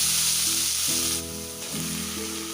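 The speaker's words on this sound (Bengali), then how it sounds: "সরিষাটা কিছুক্ষণ ভাজা হওয়া পর্যন্ত অপেক্ষা করবো" Mustard seeds, white and black, frying in hot oil for a thoro (banana stem) dish, giving a steady close sizzle with crackling pops throughout.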